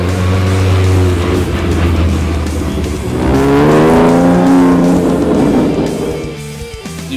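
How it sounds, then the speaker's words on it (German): Rally cars at the Wikinger Rallye 2014 race past a spectator point with loud engines rising and falling in pitch as they rush by close, accompanied by a hint of tire noise. "Jedes Mal, wenn ein Wagen an den Zuschauerpunkten vorbeirauschte"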